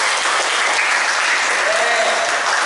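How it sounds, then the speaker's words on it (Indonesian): Steady applause from a classroom group honoring Ahmad's group after their presentation, a dense continuous clatter of many hands that fills the whole span at even loudness. "Tepuk tangan untuk Ahmad."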